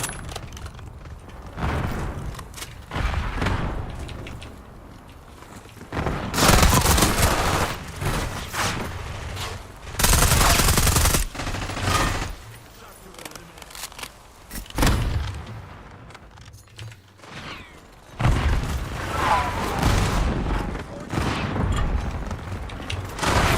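Rifle gunfire in a multiplayer shooter video game, repeated bursts of shots and booming impacts in clustered volleys across the stretch, loud and close with short lulls between.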